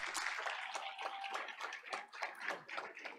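Audience applause at a school board of education meeting honoring California Cadet Corps and JROTC students, a steady dense patter of many hands clapping that carries on evenly throughout.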